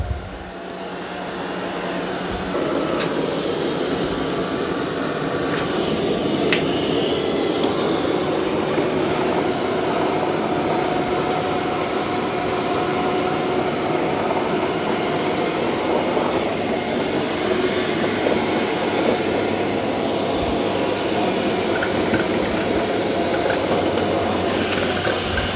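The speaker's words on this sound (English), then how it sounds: "the Q Revo's doing a good job mopping and vacuuming at the same time." A Roborock Q Revo robot vacuum runs steadily while mopping and vacuuming at once, giving a constant motor whir and airflow hiss that starts after a brief quieter moment and holds level throughout.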